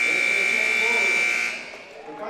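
A high school basketball game's end-of-quarter buzzer blares a steady, loud electronic tone for over a second, then cuts off under a commentator's voice in the arena.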